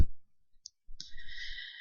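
A single computer mouse click on an image, a short crisp tick, then a brief soft rustle and a steady faint hiss in a quiet room.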